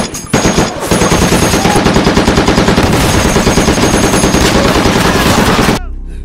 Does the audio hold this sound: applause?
no